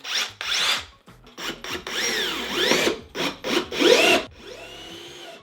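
FEIN 12V cordless drill driver with a bit inserted directly in the driver, no chuck, running in short bursts of whirring and grinding against the workpiece, close and loud, with pauses between each spin and no talk.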